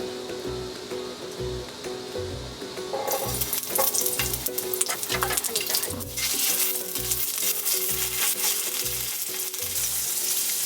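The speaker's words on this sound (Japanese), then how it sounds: "今日はねここで焼肉焼くスタイルでいきます" Yakiniku meat sizzling on a grill inside a camper van, a steady crackling fry that swells louder after a few seconds and continues close and busy over a regular low pulsing thump.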